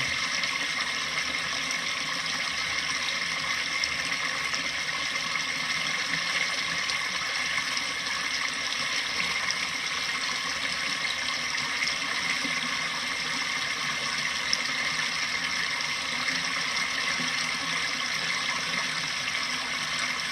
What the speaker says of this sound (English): To make this waterfall basically do whatever we want it to do.